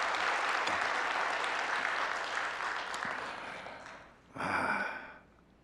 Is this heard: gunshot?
no